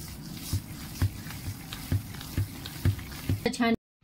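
A spoon stirs mixed lentil vada batter with salt in a bowl, making soft wet thumps in a steady rhythm about twice a second, close and moderately quiet, ending in a brief clatter before it cuts off.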